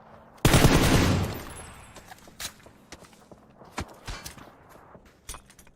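A burst of AK rifle fire in PUBG, scoped at 2x, opens with a loud dense volley, then trails off into scattered sharper shots and clatter further away.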